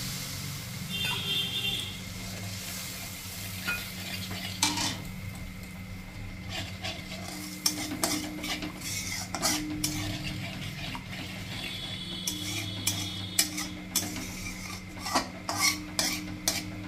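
A spoon scrapes and stirs through fried masala in a pan as water goes in for a koi fish gravy, giving steady clinks and rubbing over a low background hum, with no talking.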